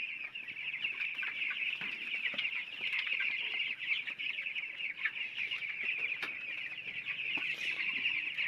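Twelve-day-old chicks in a poultry shed clucking and peeping together, a steady continuous chorus of many small birds at moderate distance, with no talking.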